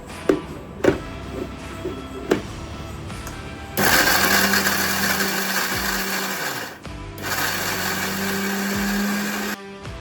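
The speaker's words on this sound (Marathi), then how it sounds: "आपण इथे सगळे दळून घेणार आहे बारीक दळायचं" A kitchen mixer grinder whirs loudly in two bursts of about three seconds each, grinding ingredients for fenugreek laddu, with a few knocks and taps beforehand.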